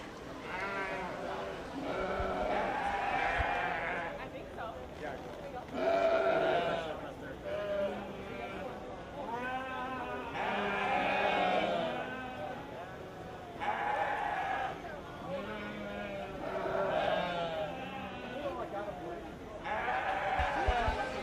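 White-faced commercial ewes bleat repeatedly in the ring at a 4-H/FFA sheep show, several calls overlapping at moderate distance, under an announcer's amplified voice and crowd murmur.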